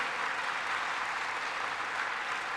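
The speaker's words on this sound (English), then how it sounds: "while you clap now" Panel audience applauding, a continuous even wash of clapping from a large crowd, fairly soft and steady for the whole stretch with no voices.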